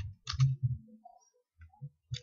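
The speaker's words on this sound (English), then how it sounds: "I will type my localhost." Someone types localhost on a computer keyboard: a few quick, close key clicks in a short irregular burst, then scattered single taps, with no talking.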